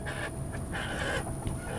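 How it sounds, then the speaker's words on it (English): Chickens cluck and murmur in short, overlapping bursts against a steady background hiss, close by and moderately loud. "chickens are misbehaving."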